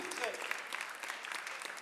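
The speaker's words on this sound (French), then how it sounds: "On l'applaudit" A crowd claps at a slam poetry contest, dense continuous applause filling the room at even volume, with brief vocal sounds mixed into the clatter.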